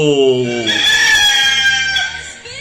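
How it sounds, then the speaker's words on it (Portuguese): A rooster crows a long, loud cock-a-doodle-doo, played as a sound effect on a Brazilian morning broadcast, rising and then holding a bright, strained tone close up with no talking over it. "Coloca o galo para o Brasil"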